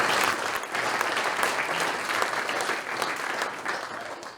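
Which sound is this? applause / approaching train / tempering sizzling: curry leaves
applause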